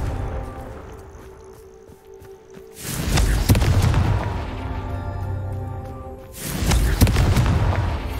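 Confringo spell blasts in the Hogwarts Legacy video game: two loud, booming explosions, one near three seconds and another near six and a half, each with a rumbling tail over a quieter ambient game background.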